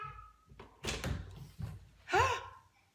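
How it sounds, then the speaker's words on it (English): Young girls pound on a closed door from outside, several dull muffled thumps in uneven bursts, followed by a brief high whine or cry. "the girls have been like pounding on the door"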